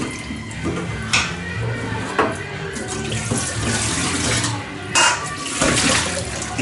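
Tap water runs steadily into a kitchen sink while rice is rinsed and the starchy water drained off, a continuous close splashing stream with a few louder sloshes and no speech.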